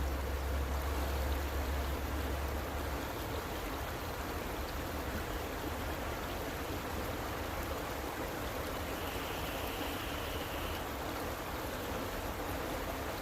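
Flowing stream water beside a winter catfish fishing spot, an unbroken close-up wash of noise at a constant level with a faint low rumble at the start and no speech.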